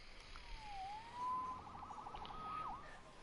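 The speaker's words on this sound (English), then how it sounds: "Saved by the siren." Police siren wails faintly in the distance, a thin rising and falling tone over quiet night background, with no talking.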